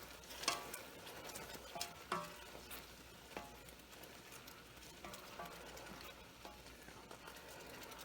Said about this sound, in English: I'm going to stir that in very quickly